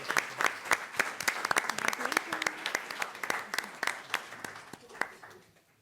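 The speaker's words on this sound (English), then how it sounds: "One more round of applause." Audience applause at a county school board meeting: a scattered burst of claps with some voices mixed in, thinning out and fading to near silence by the end.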